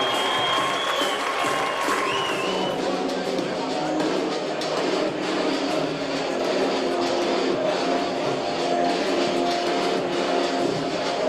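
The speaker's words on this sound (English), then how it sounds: "That fantastic applause that we're hearing right now can only mean one thing" A crowd at a kickboxing event applauds in a sustained, even wash of clapping and crowd noise that lasts the whole stretch, with a faint thin whistle-like tone near the start.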